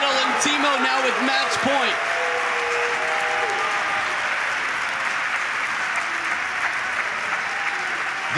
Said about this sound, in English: Simply applause and standing O's.